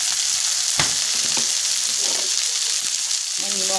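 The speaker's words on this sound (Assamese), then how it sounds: "এতিয়া মোৰ পিঁয়াজটো অলপ ভাজ খোৱাৰ পিছত মই বিলাহীখিনি অলপ ভাজ খাবৰ কাৰণে দি লৈছোঁ" Tomatoes and turmeric fry with onion in a hot pan, giving a loud, steady sizzle that runs throughout, with a few scrapes and clinks of a utensil near the start and end.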